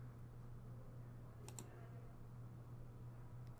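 A computer mouse clicks twice in quick succession, close and faint, over a steady low electrical hum.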